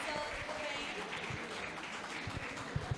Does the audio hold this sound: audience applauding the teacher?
yes